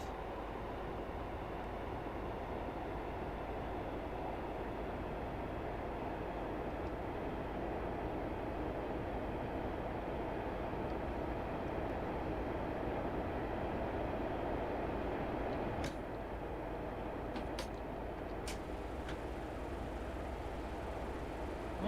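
Passenger train slowing toward Chathill platform on a Newcastle to Chathill run in a train simulator, a steady low rumble of wheels and motor, even and continuous, with a few faint clicks near the end.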